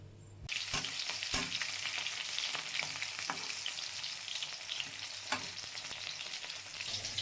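Fish frying in plenty of oil in a home kitchen, with a steady loud sizzle and crackle throughout and occasional sharp pops and stirring clatters, no voices.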